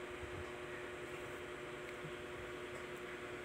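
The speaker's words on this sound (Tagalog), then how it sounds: "tapos sisindihan na natin to gamit yung blower natin" A blower used to light a fire runs with a constant mechanical whir and airy hiss, steady and close throughout with no voices.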